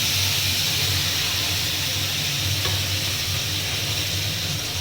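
Marinated meat sizzles loudly in hot oil with whole spices in a wok, a constant dense hiss and crackle close by, unbroken throughout.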